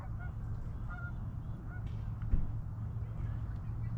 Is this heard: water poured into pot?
no